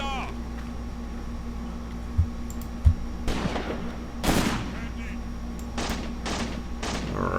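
MG42 machine gun fire in the WWII tactics game Graviteam Tactics, heard as a few sharp bursts and thuds over steady battlefield ambience, fairly close, with a longer burst midway and several short ones near the end.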